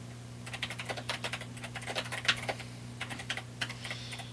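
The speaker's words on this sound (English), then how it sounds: "We're just typing in description here." Someone types steadily on a computer keyboard nearby, producing rapid clicking keystrokes in short bursts over a steady low hum.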